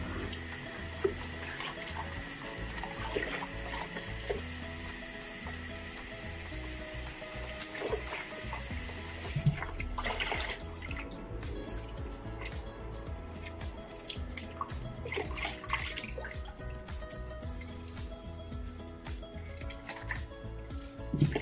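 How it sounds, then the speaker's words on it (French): Potatoes being washed under a running kitchen tap, a steady quiet stream of water with splashes, drips and occasional knocks in a sink. "je vais laver les pommes de terre"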